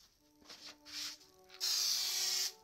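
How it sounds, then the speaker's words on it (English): Aerosol spray coating the cracked vinyl dashboard of a Toyota Hilux pickup or 4Runner, heard as short hissing bursts followed by one longer steady hiss, close and fairly loud with faint tonal hum beneath. "The spray pattern is almost too narrow for this."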